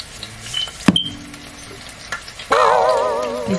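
Sunny side up eggs fry in oil in a pan, beginning with a few clatters and taps before a louder, steady sizzle bursts up for the last second.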